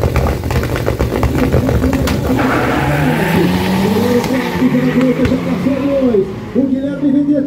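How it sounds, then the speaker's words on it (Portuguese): Front-wheel-drive race cars at a drag strip, engines roaring loud and close with shifting revs and bursts of acceleration as a commentator talks over the noise. "disputa de tração dianteira na pista"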